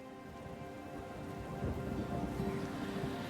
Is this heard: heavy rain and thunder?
yes